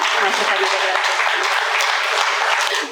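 An audience claps loudly and steadily in honour of Brahmarshi Patriji, a dense wash of applause that fades slightly at the end.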